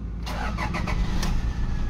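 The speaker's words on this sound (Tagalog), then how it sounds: "Engine start." A Toyota Fortuner's engine cranks and catches, the starter whirring in quick pulses before the motor settles into a steady, loud running hum up close.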